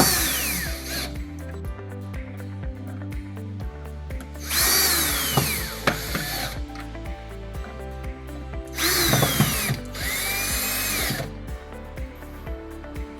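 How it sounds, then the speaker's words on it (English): A power drill on a low setting whirs in repeated bursts, its motor revving up and straining as screws are driven into wall anchors. "on the lower setting of your drill, you can actually screw these in"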